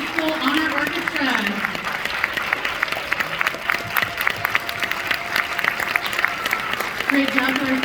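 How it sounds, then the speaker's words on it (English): Audience applause for a high school honor orchestra at a concert, sustained dense clapping throughout with crowd noise and some voices mixed in. "Let's have one more round of applause, please, for our guest conductor, Eleanor Núñez"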